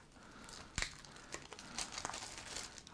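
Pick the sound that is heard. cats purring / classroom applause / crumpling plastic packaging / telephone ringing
crumpling plastic packaging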